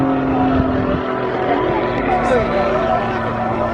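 A six-cylinder 8.5-litre Lycoming-engined aerobatic plane with a smoke system, flying at the Eastbourne airshow: a loud, steady propeller drone throughout, with a commentator talking over it.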